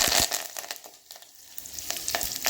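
Cumin, mustard seeds, garlic and curry leaves sizzling in hot ghee for a kadhi tempering, with close crackling, popping and hissing bursts at an uneven rhythm.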